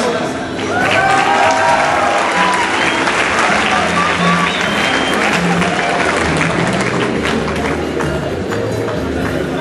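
An audience at an anniversary ceremony for a technological institute applauds in a loud, dense, continuous clatter lasting nearly ten seconds. Voices can be heard faintly beneath the clapping.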